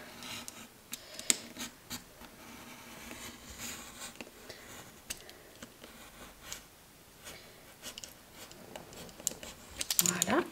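Scissors snip through decorative scrapbooking paper for a sleigh kit, working slowly around rounded corners with soft, faint, intermittent cuts and rustles in a quiet room.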